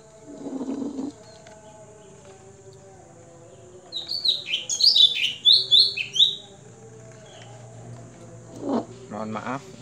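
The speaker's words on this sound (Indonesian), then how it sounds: "di atas saya ada burung, namanya burungnya itu cak cengkok ya teman-teman, sangat keras sekali bunyinya" A cak cengkok bird calls loudly from overhead, a burst of sharp chirping notes in the middle, with quieter background sounds and brief noises at the start and end.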